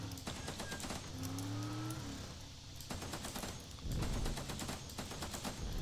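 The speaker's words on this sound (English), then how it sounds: "Oh, that's a machine gun, nice." Rapid machine-gun fire in the Teardown video game clatters in close, loud automatic bursts, interrupted by a short lull and a rising mechanical whine before the shooting resumes.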